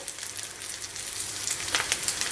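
An oats and vegetable cutlet sizzles steadily in a frying pan, a close, continuous hiss of hot oil with a few brief crackles and a light scrape as it is flipped.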